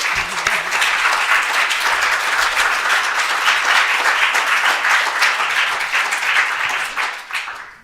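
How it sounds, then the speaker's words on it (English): Audience applause at a literary reading event for a Berlin review launch, steady dense clapping sustained for about seven seconds before tapering off at the end, with no talk over it. "So please, a little applause for Fatin."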